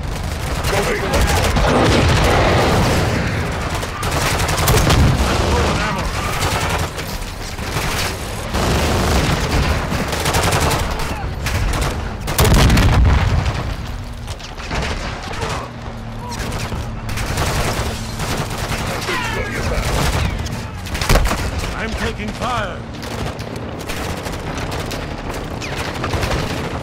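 Call of Duty combat brings loud, nearly continuous gunfire, with bursts of automatic shots and booms piling up close by, and radio-style game voices heard beneath the shooting.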